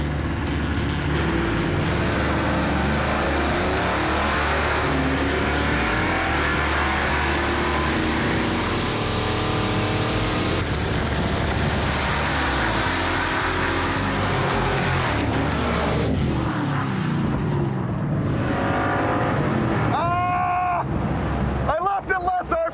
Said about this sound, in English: The double burnout.